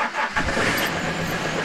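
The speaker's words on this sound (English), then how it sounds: "It's just a case of starting the engine" A motorboat engine cranks and catches, a loud rough burst that settles into a steady running drone, close and alone with no voices.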